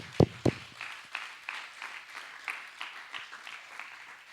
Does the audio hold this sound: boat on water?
no